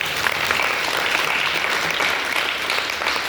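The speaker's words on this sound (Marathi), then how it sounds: "टाळी वाजवा या बाळाला" A crowd at a kirtan devotional gathering claps for a child, a dense, steady burst of applause from many hands lasting the whole moment.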